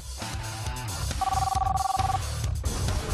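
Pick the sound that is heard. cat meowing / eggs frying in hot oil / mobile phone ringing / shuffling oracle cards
mobile phone ringing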